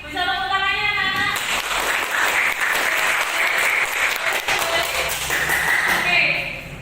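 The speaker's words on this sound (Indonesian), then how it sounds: "Bisa tepuk tangannya, anak-anak." Schoolchildren clapping together in a classroom, a dense steady patter of applause lasting several seconds, fairly close and loud, with voices mixed underneath.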